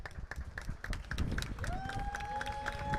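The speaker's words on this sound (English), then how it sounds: "As the crowd applauds Jose Chavez" A crowd at an NPLS soccer match between FC Brownsville Coyotes and FC Houston Heat applauds a substituted player, with scattered quiet clapping and murmuring under a steady tone and a faint whistle-like sound.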